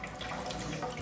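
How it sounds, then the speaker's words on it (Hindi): Water trickling and splashing into the tank of a Voltas water dispenser fitted with a non-electric float valve, a steady close hiss of filling water throughout. "देखिए, इसमें थोड़ा पानी आ गया"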